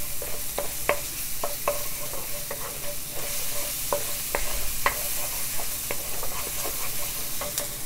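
Chicken and noodles stir-fry with soy sauce in a hot pan, with a constant loud sizzle and repeated sharp clicks of a utensil tossing and stirring at an irregular pace, close and without talk.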